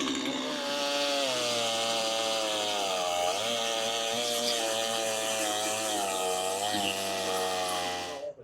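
An HM 130 Max sawmill cutting oak logs gives a loud, continuous whining drone close by, its pitch dipping briefly a few times as the blade meets load.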